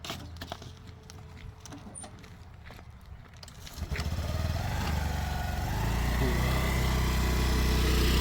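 A new Honda Activa scooter's engine runs steadily, starting softer and growing louder and closer after a few seconds into a sustained, even drone with no talk.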